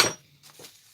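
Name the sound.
metal fret file being dropped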